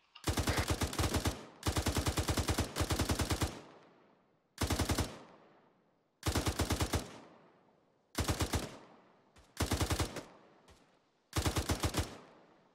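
Automatic gunfire in the game Arma 3, laying suppressing fire on an enemy sniper in a mosque tower: loud, close bursts of rapid shots in repeated volleys, each trailing off with a short echo, no voices.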